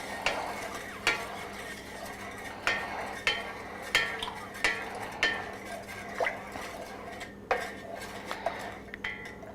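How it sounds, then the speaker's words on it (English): A spoon stirring sugar into sweet tea for kombucha, rhythmic metallic clinks against the pot roughly every half second, close and fairly soft, with a liquid swish between strikes and no voices. "I'm just stirring in the sugar, and you just stir it in until it's dissolved"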